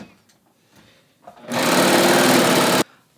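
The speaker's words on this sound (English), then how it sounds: "I'm going to wiggle it off the stitch fingers in the back and chain off." A serger sewing machine chains off stitches after finishing a sleeve cuff, a loud steady whirring run of about one and a half seconds that starts and stops abruptly after a quiet pause.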